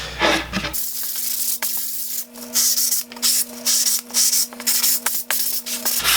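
Sandpaper is rubbed by hand along the edges of a small milled hardwood piece, in close, rhythmic back-and-forth scratchy strokes over a faint steady hum, with no talk.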